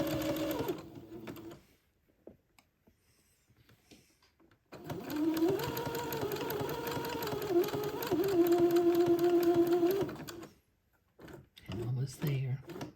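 A sewing machine runs in a steady whirring burst of several seconds as it stitches around a corner of a gown, with short pauses and handling noises before and after and a voice speaking briefly.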